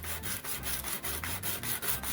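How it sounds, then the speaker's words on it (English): A wooden bass guitar body is sanded in steady back-and-forth strokes, about four per second, a soft rhythmic rasping scrub heard up close with no talking. "I am working on Jimber's bass body, just sanding it out, getting all the edges nice and smooth."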